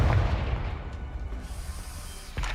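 A Confringo fire spell explosion in Hogwarts Legacy, a deep rumbling boom that opens loud and fades into a long low roar, with a second thump near the end.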